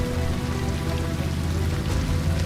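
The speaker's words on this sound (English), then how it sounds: "Soon it started drizzling" Light drizzle falls steadily during a mountain trek to Deoria Tal lake near Chopta, Uttarakhand, a close, even patter of raindrops with no voices.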